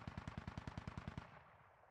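Rapid automatic gunfire in the video game Squad, a steady burst of about a dozen evenly spaced shots that fades off in the final moments, with no talking.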